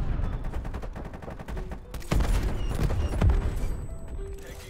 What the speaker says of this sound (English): Firing up war machine.